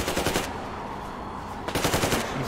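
Sustained machine gun fire in the video game Metro Exodus, loud rapid bursts of automatic shots with a short pause midway before firing resumes, no talk.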